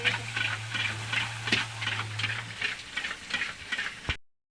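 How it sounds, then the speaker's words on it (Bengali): Fuchka puris fry in hot oil in a wok, giving a soft, fluttering sizzle in repeated bursts over a low steady hum, close by, with no talking. "ফুচকা ভাজা হচ্ছে।"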